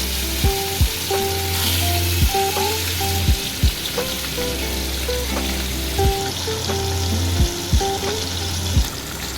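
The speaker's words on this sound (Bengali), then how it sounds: "ইলিশ মাছটা হালকা তেলে ভেজে নেব" Hilsa fish pieces fry in oil in a wok with a loud, constant sizzle, broken by occasional sharp clatters and knocks from the pan, close and without talk.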